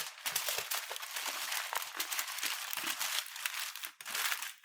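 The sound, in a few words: crumpling something up by hand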